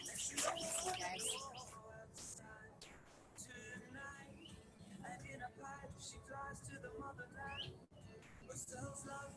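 Several wild birds, including western mockingbirds and a cardinal, call and whistle outdoors in varied, overlapping chirps and phrases, faint and continuous against a hissy background.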